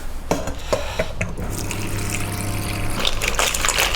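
Running tap water gushes steadily into a sink while an ice-filled towel is held under it during a barber's hot towel shave, close and continuous with some splashing.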